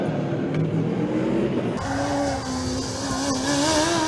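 A Formula Student race car from the Padova team powers through a slide on the endurance track, its engine note loud and continuous, climbing steadily in pitch with a brief shift partway through, with no talk over it.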